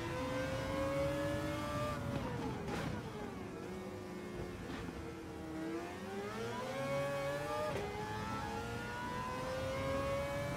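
A Mazda race car engine in a racing video game, droning steadily and loud with pitch rising and falling as it revs, dips through corners and climbs again over about ten seconds, with no talking.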